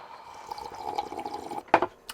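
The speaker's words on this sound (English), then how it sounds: "Few sounds are better than rain on the roof of your camper." Soft patter of rain drumming on a camper roof, with scattered drips and one sharper splash near the end.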